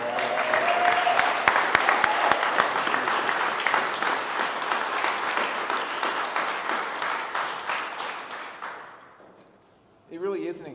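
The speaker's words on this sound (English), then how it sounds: "Can we give Anna Jo just one more round of applause for all?" Audience at a Colorado press conference with the governor and legislative leaders applauding in a sustained round of many hands clapping for about nine seconds, tapering off, before a single voice starts speaking at a microphone.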